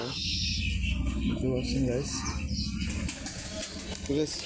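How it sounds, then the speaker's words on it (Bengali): Giribaj pigeons at a pigeon loft cooing in low repeated warbles close by, with bursts of wing flapping, while someone talks over them the whole time. "এখানে যে গিরিবাস কবুতর আছে"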